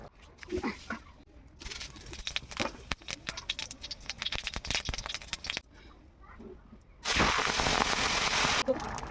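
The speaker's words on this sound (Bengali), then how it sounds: "ফোড়ন দিয়ে দেবো" Whole spices tempered in hot oil for a jackfruit and prawn curry crackle and pop in dense, irregular bursts up close, ending in a loud, steady sizzling hiss, with faint voices at times.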